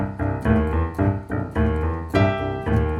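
A boogie-woogie piano riff played slowly and steadily: a rolling repeated bass figure under bright chords, close and full, carrying on continuously with no talking.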